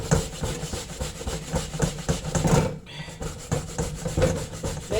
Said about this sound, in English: So we use the grater to grate it.